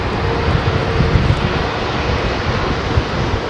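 Heavy airliner departing runway 27R at London Heathrow, a loud, continuous broadband jet roar with deep rumble, steady throughout and close, no talking.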